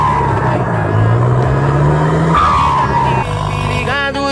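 Engine on a farm machine runs loud and close, with a steady low drone and a pitch that shifts as it revs, and a brief rise near the end.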